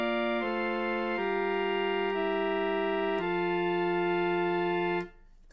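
A weak cadence in three voices with a 7-6 suspension, sustained pure, organ-like tones moving chord to chord in several slow steps before cutting off, clean and moderately quiet with no talking.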